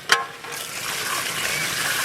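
Chicken curry sizzles loudly in a pan just after water goes in, a brief splash giving way to a steady, bubbling hiss that holds to the end.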